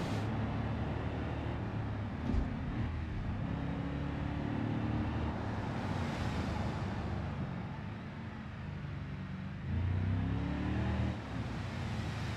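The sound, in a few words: car engine driving, from video game BeamNG.drive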